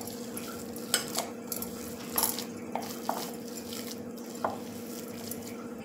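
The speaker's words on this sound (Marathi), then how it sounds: "हे थोडं कडक वाटतं म्हणून मी थोडं पाणी टाकत आहे, थोडंच टाकायचं" A little water trickles into kothimbir vadi batter in a bowl, with soft wet drips and stirring sounds that come close and fairly quiet, no talking.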